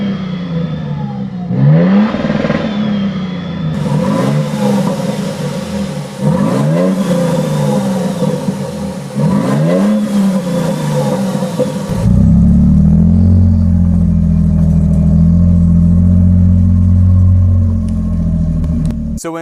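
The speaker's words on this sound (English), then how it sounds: "It just had a very raspy tone for the V6 exhaust." Raspy V6 exhaust of a 2024 Toyota Sequoia TRD Pro with a TRD exhaust system, several sharp revs rising and falling, then a steady loud rumbling idle, close and without talk.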